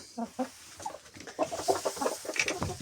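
White Leghorn hens and a small rooster clucking close by in a series of short, uneven calls and murmurs, with soft voices talking in between.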